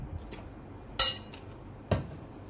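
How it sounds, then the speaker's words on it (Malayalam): A spoon mixes onion pickle (ulli achar) in a bowl, giving two sharp, brief metallic clinks about a second apart over a quiet background. "ഇതാദ്യം നന്നായിട്ട് നമ്മൾ സ്പൂണുകൊണ്ട് മിക്സ് ചെയ്യാം."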